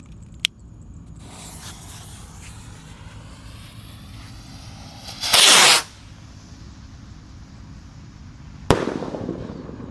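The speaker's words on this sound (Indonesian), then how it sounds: "ini penutupannya roket Roman Candle" A Roman Candle firework rocket set off for Lebaran: a sharp pop, a long hissing whoosh as it launches, then a loud crackling burst midway and a final sharp bang, all outdoors with no talk.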